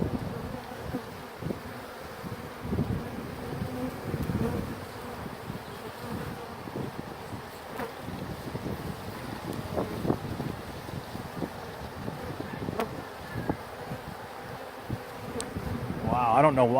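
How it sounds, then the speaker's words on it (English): Bees buzz around a bee tree during a trap out, a steady low drone with individual insects zipping close past the microphone, alongside light wind noise. "I see a bunch of more bees up in there."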